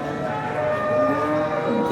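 A large cow gives a single long, drawn-out moo close by at a village market in Putia, Narsingdi, Bangladesh, over a faint murmur of background noise.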